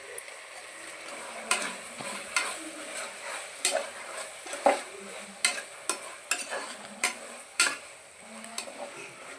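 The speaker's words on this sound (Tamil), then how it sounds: "இப்போ ஓரளவுக்கு நல்லா வதங்கிடுச்சு." Vegetables sautéing in a pan for veg biryani, a quiet sizzle broken by repeated sharp scrapes and knocks of a spoon against the pan at an uneven, fairly regular pace.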